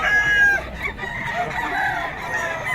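A Sweater breed rooster crows in a drawn-out call, then clucks a few times, close and fairly loud against a busy background of other poultry at a fowl market.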